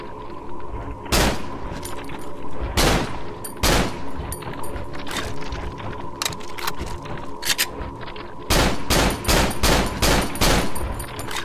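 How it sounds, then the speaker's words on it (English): Gunfire in the horror video game Cry of Fear: loud, sharp shots in separated single blasts early on, then a quick run of repeated shots near the end over a steady humming ambient drone. "So let's try shooting it."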